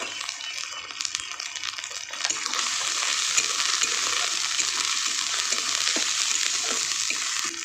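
Garlic paste and chopped tomato hit hot oil in a pan for a pomfret fish curry, a few stirring scrapes first, then a loud steady sizzle that fills the rest of the clip, no voices.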